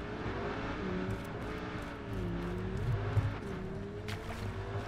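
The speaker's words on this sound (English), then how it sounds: "I hear cars" Engines droning and revving continuously as cars drive in the game H1Z1 Battle Royale, steady and fairly quiet with shifting pitch.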